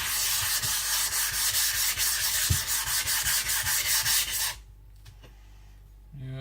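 A Shibata Kotetsu gyuto kitchen knife sharpened on a coarse Shapton Pro 220 whetstone, rhythmic close gritty scraping strokes that stop abruptly, leaving near quiet with a faint knock.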